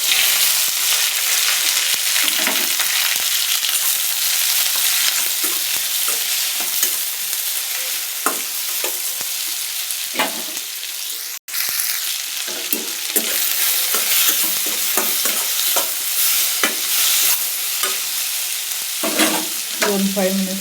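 Cumin, curry leaves, onion and capsicum frying in oil in a pan, a steady close sizzle with repeated scraping stirs of a spoon throughout, no talking.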